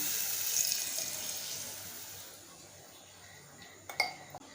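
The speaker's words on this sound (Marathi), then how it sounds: "ह्याच्यामध्ये आपण 1 ग्लास दूध घेऊया। दूध ओतायचं आपल्याला।" A glass of milk pours into a pan on a high gas flame while rava gulab jamun is being made: a steady liquid splash that fades over a few seconds, then a couple of sharp clinks near the end.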